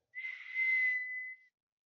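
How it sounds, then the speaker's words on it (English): A single shrill police whistle blast, sharp and steady, lasting a bit over a second before cutting off into silence, heard alone and close. "As you're hearing this police whistle go."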